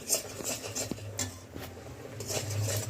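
Patisapta pitha filling, with powdered milk added, stirred in a pan over medium heat: light scraping and clinking of a utensil against the pan, with a few sharper taps, close and fairly quiet, with no talking.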